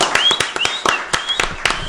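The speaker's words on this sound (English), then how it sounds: "Let me get a round of applause for Rudy Lowe, man." Applause from a small audience for Rudy Lowe, a guest from Brownsville, Brooklyn, with several close, sharp hand claps standing out over a dense background wash of clapping and a faint voice.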